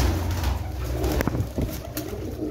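A white female pigeon coos softly in a few low, throaty bursts, close by, with no talking.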